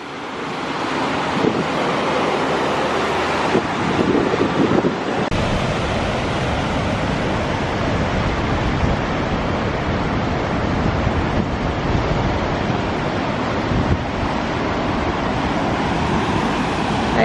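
A roadside waterfall at Yellowstone roars as a constant, loud, dense rush of water that continues unbroken, with wind buffeting the microphone and faint traffic noise in the background.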